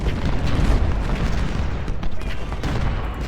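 Civil War cannon fire rumbles through a battle in the strategy game Ultimate General: Civil War, a dense, loud roll of overlapping booms and distant volleys with no clear gaps between shots.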